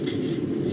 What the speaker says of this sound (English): there's forge scale along those. I'm going to brush that off.